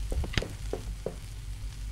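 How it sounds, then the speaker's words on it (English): Food fries in oil in a fryer on a stove, a soft, close sizzle with a few sharp crackles and pops in the first second before settling into a faint steady hiss. "Am I gonna put some oil on the fryer? What are we frying up?"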